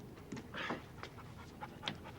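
A dog panting close by in quick, uneven breathy bursts, with a few faint whimpery sounds in between, fairly quiet and with no talk.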